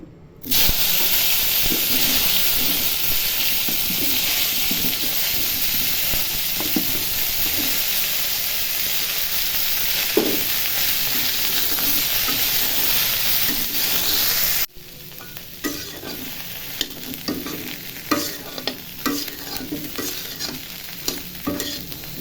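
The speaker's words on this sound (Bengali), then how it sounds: "এখন মাছ ভাজা তেলের মধ্যে ফুলকপিগুলো ভেজে নিব।" Cauliflower florets fry in hot oil left over from frying fish, giving a loud, steady sizzle with frequent stirring scrapes; the sizzle drops quieter partway through, and spatula clatter continues afterward.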